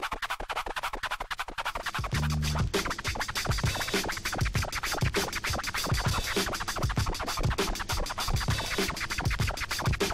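A DJ does fast flare scratches on a turntable with fader clicks: rapid choppy scratching chirps repeated in quick rhythmic bursts over a backing beat, loud and continuous.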